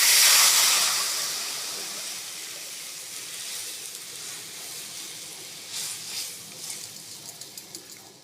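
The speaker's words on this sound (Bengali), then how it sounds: "এবার আমি আস্তে আস্তে ডালটা ঢেলে দেবো।" Dal poured slowly into hot spice tempering in a pan, giving a loud sizzling hiss that bursts at the start and gradually fades to a steady crackle with small pops near the end.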